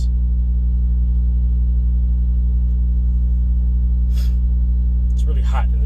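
A truck motor running, a constant low droning hum that fills the whole stretch with faint brief rustles near the end.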